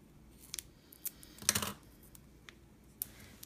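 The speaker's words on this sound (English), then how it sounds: "when you're cutting, always turn the paper, not your scissors" Scissors cut through paper in a craft demo, with a few sparse close snips and one louder, longer cut midway, no talking.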